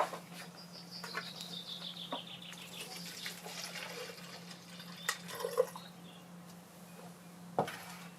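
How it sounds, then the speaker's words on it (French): A little water trickles into the bottom of a bottle in a workshop where succulent cuttings are being planted, a soft, faint pour with small drips and clinks over a quiet room hum. "dans cette bouteille, vous allez mettre un petit peu d'eau dans le fond."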